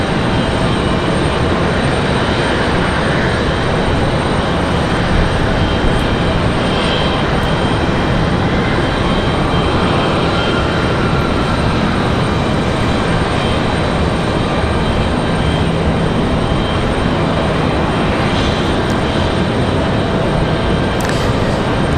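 An American Airlines Boeing 737 MAX 8 from Miami arriving at Raleigh-Durham International, a loud continuous engine roar that stays steady and dense throughout, with no voices over it.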